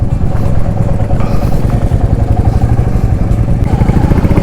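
A motorcycle climbing a steep road toward the chief's house in Longwa village, its engine chugging loudly and steadily up close with a rattling rhythm and no voices.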